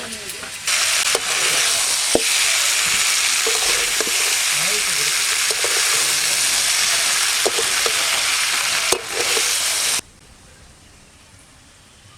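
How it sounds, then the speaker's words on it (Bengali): Loud, crackling sizzle of jackfruit and potatoes frying in a pan, with occasional stirring scrapes, running for about ten seconds before abruptly going quiet. "এঁচোড় আর আলু খুব ভালো করে ভাজা হয়ে গেছে"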